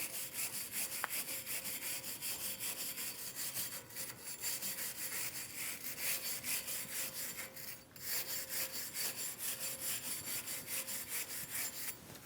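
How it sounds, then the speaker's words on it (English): A hand brush scrubs rust and grime off the bare front wheel hub of a 2010-2015 BMW X1 xDrive during a brake job, a steady rapid rasping back-and-forth that runs continuously and close with only a brief pause. "Using a brush, we're going to clean our hub."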